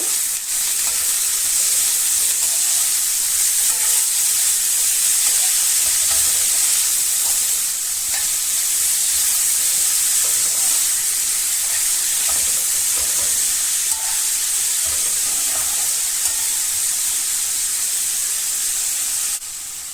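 A cabbage dish fries in a pan with chili and cumin powder, a steady loud hiss and sizzle held throughout, with occasional faint stirring knocks.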